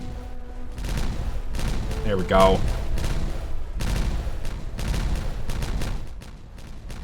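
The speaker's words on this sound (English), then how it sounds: "Explode 200 dynamite in a single day." Massed dynamite blasts in the game Timberborn, a continuous rolling rumble of rapid overlapping explosions sustained for several seconds, with a brief spoken remark over the barrage.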